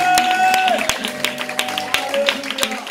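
A church congregation at a Sunday worship service claps and acclaims together, sharp irregular claps rising through sustained music tones and voices, lively and close.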